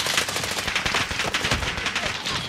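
Rapid automatic gunfire from Call of Duty, dense bursts of machine-gun shots crackling continuously and loudly through the whole moment with no talk over it.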